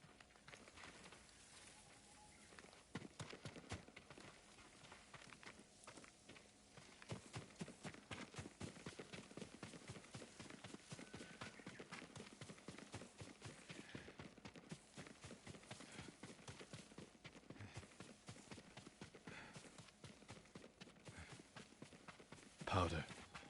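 Horse hooves clip-clopping in the Ghost of Tsushima video game, a steady rhythmic trot of hoofbeats at moderate distance continuing for about twenty seconds, with voices speaking intermittently.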